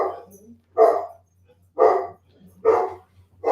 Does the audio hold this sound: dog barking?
yes